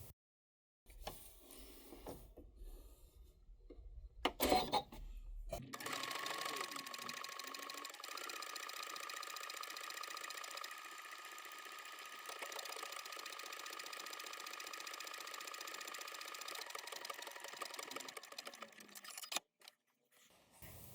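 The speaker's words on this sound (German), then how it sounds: "Dann kannst du die Knopflöcher nähen." A sewing machine stitches buttonholes on an oversized hoodie, a steady close mechanical whir running for about fifteen seconds after a few handling clicks and a brief start, fairly quiet and even.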